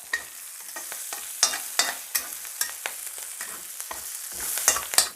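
Chicken stir-fried in oil with curry leaves and green chilies, with repeated close spatula scrapes and clatters over a crackling sizzle, irregular in rhythm and fairly loud.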